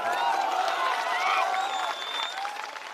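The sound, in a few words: crowd applauding at rally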